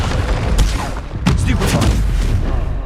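Explosive spells fired in the video game Hogwarts Legacy: several sharp blasts and booming impacts burst out in quick, irregular succession over a low rumbling bed, loud and close.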